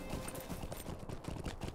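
Horse hooves clip-clop in the game Lord of the Rings Online (LOTRO) as a rider travels on horseback through Wistmead, a quick, even run of soft hoofbeats heard alone.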